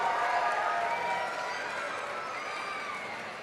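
Spectators at the Kenora Bass International fishing tournament weigh-in applaud and cheer a boat crew, a steady wash of crowd noise with clapping and whoops that fades slightly over a few seconds.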